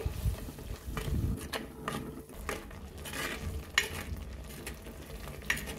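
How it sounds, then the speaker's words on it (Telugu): Turmeric, chilli powder and salt are stirred into a pot of fish and raw mango curry, with soft scraping strokes and occasional clinks over a low sizzle, close by, with no talking. "పసుపు అర స్పూను వేసి బాగా కలపాలి"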